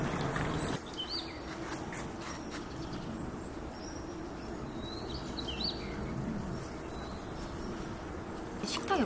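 Birds chirp and twitter in a leafy home garden with flowers and plants, several short bright calls scattered over a quiet outdoor background, fairly faint and from a moderate distance.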